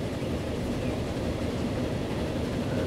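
An early Stephenson steam train runs in the video game Transport Fever, heard as a steady, loud rumbling rail roll with no clear breaks.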